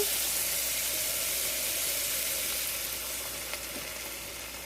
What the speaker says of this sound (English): let the saucepan get a little warmer, get those onions cooked a little bit more